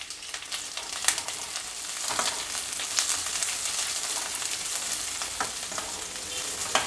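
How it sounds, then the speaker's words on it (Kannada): Long-sliced onion fries in a pan for fenugreek-leaf dumplings, a steady bright sizzle with occasional stirring scrapes and crackles throughout. "ಚೆನ್ನಾಗಿ ಫ್ರೈ ಮಾಡಿಕೊಳ್ಬೇಕು ಈರುಳ್ಳಿ ಎಲ್ಲ ಫ್ರೈ ಆಗಿದೆ"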